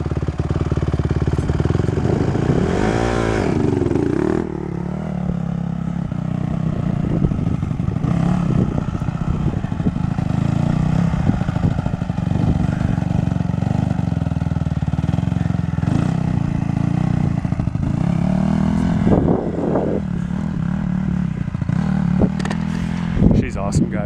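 A dirt bike engine runs loudly nearby, revving up and settling to a rough mid-pitched drone with repeated throttle changes, while people talk over it throughout.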